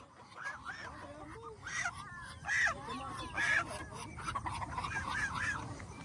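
Several geese and ducks honk and quack in irregular bursts on a rural farm in Guimba, Nueva Ecija, Philippines, some close and loud, with a person speaking intermittently over the birds.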